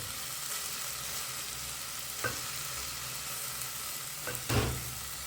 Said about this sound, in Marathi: कांदा टोमॅटो आपला छान फ्राय झालेला आहे